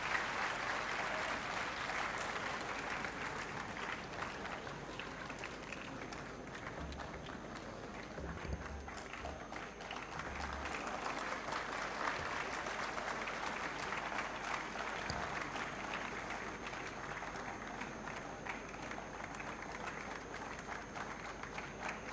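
An audience at a university lecture event applauds to welcome guests, with dense, steady clapping that carries on without a break and stays at an even, moderate level from start to finish.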